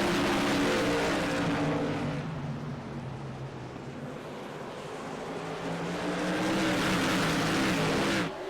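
Whelen Modified race cars roar together at New Smyrna Speedway under the lights, a loud continuous engine drone that dips mid-pass and swells again as the pack sweeps by close.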